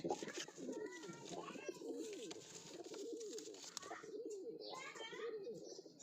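Pigeons in a loft coo repeatedly, close and fairly loud, in soft rolling calls throughout, with faint chirps and a person talking quietly in the background.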